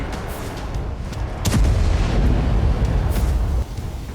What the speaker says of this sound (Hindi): धमाके के बाद कई फीट ऊंचा मशरूम क्लाउड देखने को मिला।